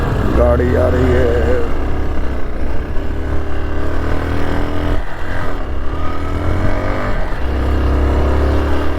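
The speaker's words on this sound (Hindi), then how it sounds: "गाड़ी आ रही है।" A car engine drones steadily on a mountain road near Dharchula on the way to Adi Kailash, loud and close throughout, with voices talking over it.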